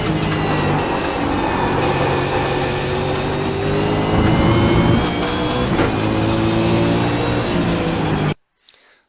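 An Audi S3 race car laps the Mosport circuit, its engine droning loud and close as the pitch climbs and then eases through the gears, ending in a sudden cut-off.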